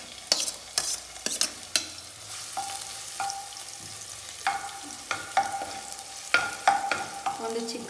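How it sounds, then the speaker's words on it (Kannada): Green chillies hit a pan of hot oil, with bursts of stirring and scraping over a soft sizzle that rises and falls in uneven clusters, close and moderately loud, with no talking. "ಈಗ ನಾನು ಫಸ್ಟು ಹಸಿಮೆಣ್ಸಿನ್ಕಾಯಿ ಹಾಕ್ಕೊಳ್ತಾ ಇದ್ದೀನಿ"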